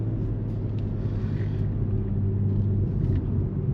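A BMW G20 M340i with a stock turbo, tuned to around 400 hp, drones steadily from inside the cabin while driving: a low, even engine rumble with a faint airy layer above, holding constant throughout.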